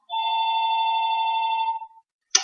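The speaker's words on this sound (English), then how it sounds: "Sorry, that's the phone ringing." An office telephone rings once with a long electronic warbling tone lasting nearly two seconds, loud and close, then a brief click after a moment of silence.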